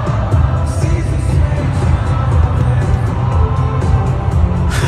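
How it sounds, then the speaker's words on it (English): A large concert crowd reacts as a performer falls on stage: a dense, loud roar of cheering and yelling with whoops, sustained and heavy throughout. "let's hear the crowd make the noise as he falls down"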